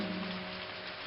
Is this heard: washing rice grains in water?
no